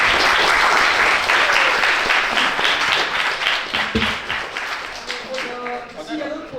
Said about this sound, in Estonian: Aga suur aitäh, Marek, suur aitäh teile, on suur aplaus.